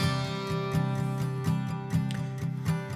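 Layered acoustic guitars, a Yamaha chugging a steady rhythmic pulse while a J45 strums chords on top, with regular accents about every half second.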